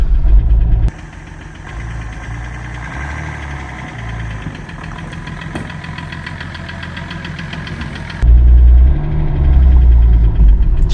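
A freshly swapped diesel engine from a BMW E46 330d runs loudly with a rough, knocking clatter, dropping to a quieter idle for several seconds before surging again.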